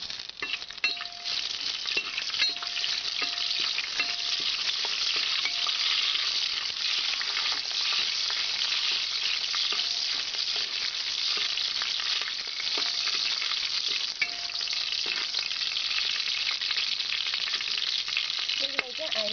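Cardamom, cloves and bay leaves fry in hot oil in a pan for Kerala-style beef biriyani. A steady, bright sizzle carries on for the whole stretch, with occasional soft stirring scrapes and no voices.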